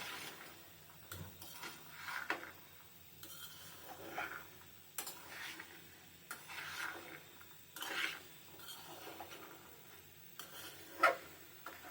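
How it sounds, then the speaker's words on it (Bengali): Chickpeas being stirred with spices in a cooking pan: soft, intermittent scraping and rubbing strokes with a few light taps, fairly quiet and close, no voices. "ছোলাগুলো ছোলাগুলোকে দিয়ে দেওয়ার পর ভালোভাবে মশলার সাথে নেড়ে দিব"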